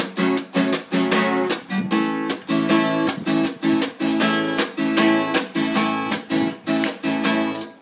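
Close, lively acoustic guitar strumming of a song's chords in a steady down-up pattern, each strum bright and rhythmic, no talking.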